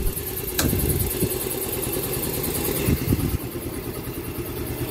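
A motorcycle engine runs at a steady idle nearby, a low rumbling drone that holds evenly throughout with no speech.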